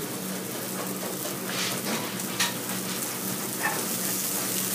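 Raw broccoli sautés in clarified butter in a pan, making a steady, soft crackling sizzle close by with a few faint clicks, and no talking.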